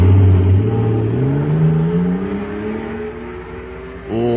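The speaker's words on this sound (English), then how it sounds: "Listen to that fire-controlled jet car go now." A radio-drama effect of a supercharged jet car running on super fuel: a loud, close engine whine that climbs steadily in pitch as it accelerates, then fades slightly before a brief surge near the end.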